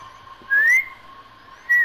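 A person whistles into a microphone, two bright rising whistled notes, the first longer and the second brief, close and clear over a faint steady hum.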